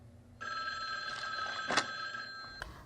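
A telephone bell rings in a quiet room in the 1978 film Halloween: one sustained ring of about two seconds, moderately loud and clear, with no voices.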